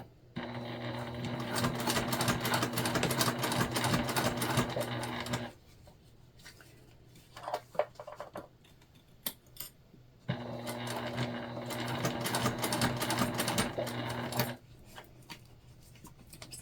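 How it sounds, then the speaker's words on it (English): A sewing machine runs a basting stitch across a backpack panel in two long steady bursts of fast mechanical whirring, with a quiet pause of small handling clicks between them. "we're just doing a basting stitch"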